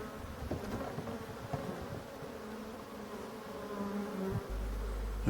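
Hornets attack a wild honeybee colony in a Brittany marsh, with a dense, steady insect buzzing close by and a deeper droning hum rising near the end.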